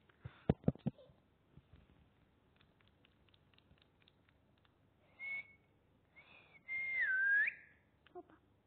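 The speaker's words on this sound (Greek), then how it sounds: "Σφυρίζει για όποιο λόγο." A person whistles at home, a few short breathy notes followed by a louder sustained whistle with a sliding pitch near the end, set against sparse household knocks.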